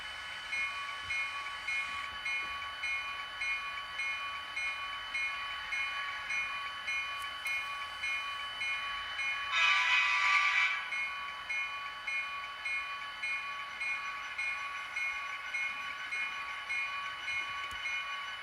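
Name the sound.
model train running down the layout track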